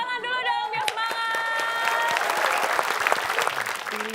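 A quiz show studio audience applauds enthusiastically, a dense, close burst of clapping and cheering that swells over brief music and carries on to the end.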